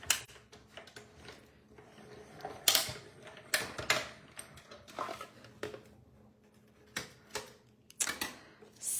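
Die-cutting machine being hand-cranked through while making cards, with quiet mechanical clicks, creaks and sharper clacks in an irregular rhythm, close by and with no talking.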